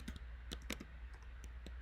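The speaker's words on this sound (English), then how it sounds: "You see I'm typing really fast" Rapid typing on a computer keyboard, crisp clustered key clicks in quick uneven bursts, close and fairly quiet over a low steady room hum.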